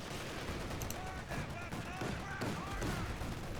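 Machine gun fire and explosions from the World War II strategy game Company of Heroes 2 during a last-ditch defense, heard as a dense, continuous rattle of automatic fire with battle noise under it, at a moderate distance.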